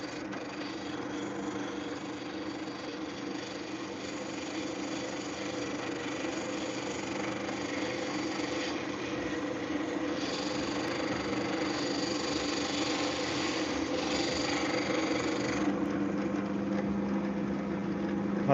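A power sander works a cheese knife handle with a continuous, even whirring drone, close and moderately loud, that shifts slightly in pitch as pressure changes and carries no speech.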